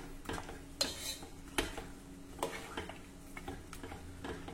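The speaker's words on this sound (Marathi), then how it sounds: "हे आपल्याला नीट मिक्स करून घ्यायचं आहे" A spoon stirring a thick jaggery mixture in a pan over medium heat, with irregular taps and scrapes against the metal over a faint low sizzle, close but quiet.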